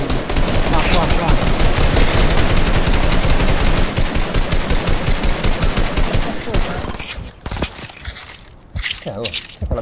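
Rapid machine gun fire from the video game Fortnite, loud and dense bursts for about seven seconds, then thinning into scattered single shots and clatter.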